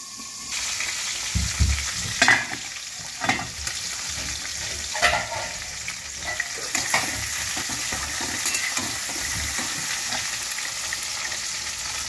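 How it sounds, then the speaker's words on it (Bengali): Hilsa fish heads fry in a pan with a continuous close sizzle, interrupted by a few clattering stirs and pan knocks early on, then settling into a steady crackle with no talking. "মাথাগুলোকে আগে ভেজে নিচ্ছি"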